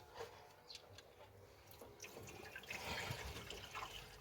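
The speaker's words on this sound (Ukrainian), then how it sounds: "і заливаємо водичку" Water pours and splashes quietly into an engine radiator of a Palesse 812SX combine harvester, a soft gurgling trickle that swells slightly louder toward the end.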